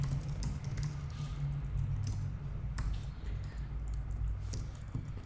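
Quick bursts of keystrokes on a computer keyboard tap close by in an uneven rhythm over a low steady hum, with no talking.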